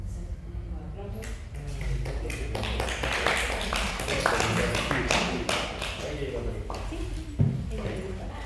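Seminar audience applause: a few scattered claps build into a dense, steady round of clapping that lasts several seconds, close and fairly loud in a room.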